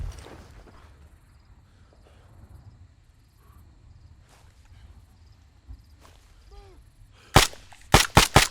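Gunfire in the ArmA 3 video game as covering fire: a quiet stretch of faint insect chirping and distant noises, then several sharp, loud shots close together near the end.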